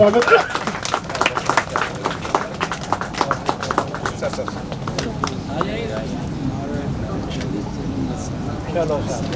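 Applause for an official being welcomed with a turban at a Water Resources Department ceremony: dense, rapid clapping from a crowd, loud at first and then thinning into a softer patter, with a voice talking over it.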